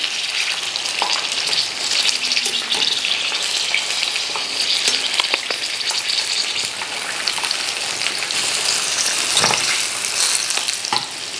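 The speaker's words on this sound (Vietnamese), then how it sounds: "Mình chiên cái này mình để lửa lớn ha." Loud, steady sizzling and crackling of pork tails deep-frying in hot oil over high heat, with occasional sharp pops throughout.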